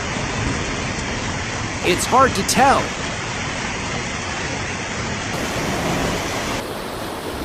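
Floodwater pouring over a bridge in Italy like a waterfall, a constant dense roar of falling water, with a brief voice speaking over it.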